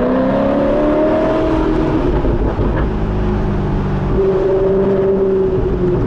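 Alfa Romeo 8C Spider's engine drones steadily while cruising, a loud, continuous low rumble with a smooth hum running throughout and no talking.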